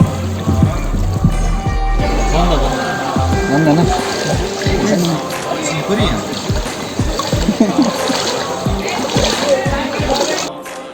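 A river stream at a riverside eco resort in Tezu, Arunachal Pradesh, flows with a continuous splashing rush while a person talks over it almost throughout.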